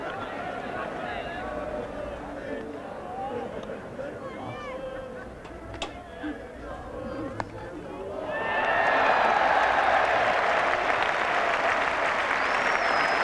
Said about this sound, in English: the crowd is now animated